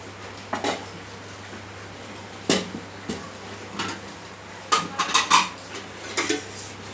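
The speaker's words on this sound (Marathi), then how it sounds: "इथे कढई तापत ठेवली आहे" A metal kadai (wok) is set on a kitchen stove to heat while masala bhendi bhaji is being cooked. Several sharp metallic clanks and clatters come in irregular clusters over a steady low background hum.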